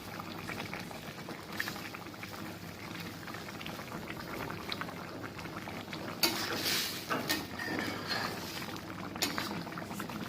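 Onion-leaf curry with fried coral fish bubbles in a pot at a steady simmer, a soft close burble with light clinks of utensils against the pan.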